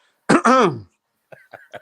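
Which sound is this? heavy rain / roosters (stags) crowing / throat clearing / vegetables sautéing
throat clearing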